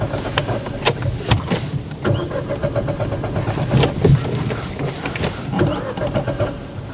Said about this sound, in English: Okay, restart the car. Clutch down. Turn the key.